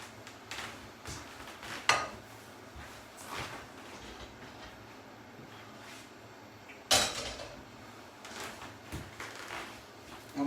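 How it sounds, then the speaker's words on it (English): A cooking pan is handled in a kitchen, with a couple of sharp metallic clanks standing out against quieter shuffling and light knocks, close by. "we're going to get our pan"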